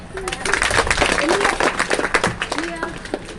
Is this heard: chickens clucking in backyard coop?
no